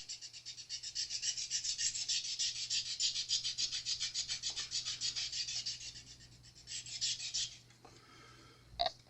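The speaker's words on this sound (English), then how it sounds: "You're just taking off some of the really rough burrs." Rapid back-and-forth rubbing of a sanding pad against the metal frets of a Les Paul guitar, a quiet, steady rasping rhythm that pauses, resumes briefly, then stops.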